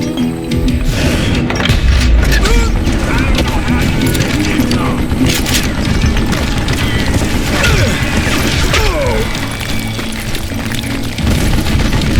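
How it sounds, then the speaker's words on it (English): Gun reloading in the Call of Juarez Gunslinger video game, metallic clicks and ratcheting mechanism sounds amid loud game effects and crashes, with a voice talking over parts of it. "Damn, I gotta reload."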